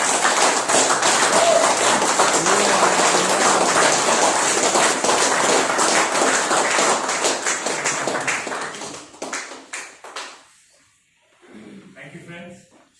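An audience applauds to welcome a speaker onto the stage, a loud, dense burst of clapping that thins out and stops, followed by a brief moment of someone talking.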